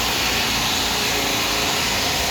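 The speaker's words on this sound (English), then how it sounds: "sorry about the air gun." A pneumatic air gun runs in a car repair garage, giving a loud, steady hissing roar that fills the whole clip without pause.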